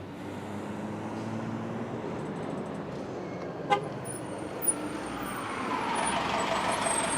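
A Carter diesel bus passes at a street corner beside an antique store near sunset, a broad engine rumble swelling and fading, with two short horn-like toots in the middle.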